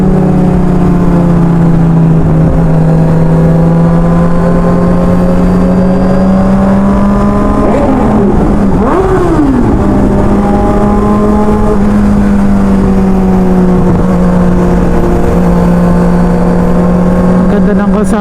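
A motorcycle engine revs on a road near Clark, Pampanga, holding a steady loud drone with a sharp rev spike midway before settling back, while riders chat over it.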